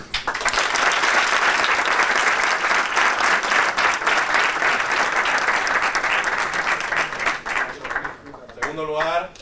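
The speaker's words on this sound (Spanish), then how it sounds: "le voy a hacer un aplauso fuerte" Sustained applause from an audience greets Sergio Cámara, announced in first place at a powerbuilding event, with thick clapping for about eight seconds that thins out as a voice starts speaking near the end.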